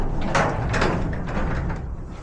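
A garage door glides upward on its own after a spring change, giving a steady mechanical rolling rumble with faint rattling along the track, fairly close and continuous.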